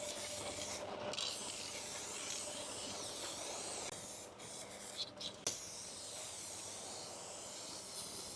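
A steady, continuous hiss of an Innocraft Drizzle D1 spray gun spraying paint on a car bumper runs throughout, with only brief dips, and no voices.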